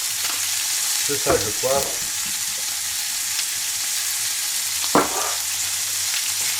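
Pork paupiettes sizzle steadily as they brown in a hot pan, a continuous bright frying hiss with a few louder crackles, while a voice briefly speaks over it.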